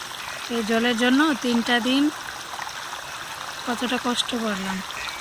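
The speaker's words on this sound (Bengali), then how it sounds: "আর আমি এখন বাসন মাজবো বাসন নিয়ে" Dishes washed under running water at home, a constant close splashing stream with a voice talking over it at intervals.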